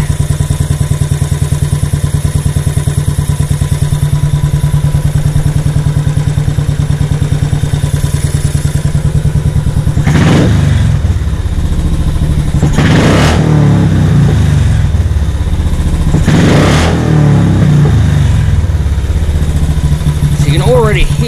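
A Royal Enfield Classic 500 motorcycle with a Race Dynamics fuel controller idles with a loud, steady thump close by, then revs up sharply three or four times, each blip falling back to idle, with a final quick rev at the end.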